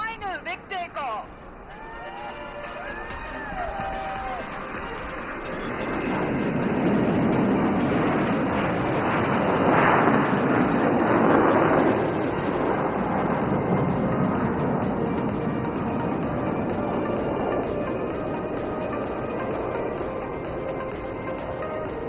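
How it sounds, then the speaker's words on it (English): Military aircraft take off at the Aero India air show at Yelahanka Air Force Station, a broad jet roar swelling over several seconds and holding loud and sustained, with faint crowd chatter underneath. "those were the final 3 aircraft leaving the runway in style"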